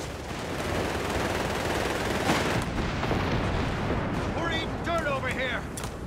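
Heavy machine gun fire pinning down troops in the Company of Heroes 3 battle game: dense, continuous crackling bursts that fill the whole stretch at steady loudness, with brief voices near the end.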